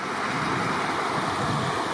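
A mountain stream on a backpacking route to Landslide Lake rushes steadily, a close, continuous wash of flowing water with no breaks and no voices.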